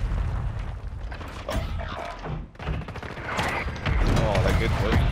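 Mortar explosions and battlefield gunfire in Call of Duty, a dense run of booms and crackling shots that keeps up for the whole stretch, with a short dip near the middle. A player's voice talks over the blasts.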